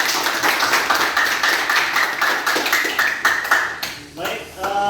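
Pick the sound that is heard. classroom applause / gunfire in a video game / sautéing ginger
classroom applause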